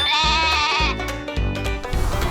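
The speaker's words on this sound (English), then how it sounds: "This is a sheep." A sheep bleats loudly and close by, a long wavering call followed by a couple more shorter bleats.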